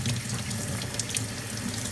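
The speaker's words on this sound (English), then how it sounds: "we'll blast this bad boy using some hot water" Hot water from a tap runs steadily over a Samsung steam VRT washing machine filter held under the stream, a continuous close rushing splash with no talking.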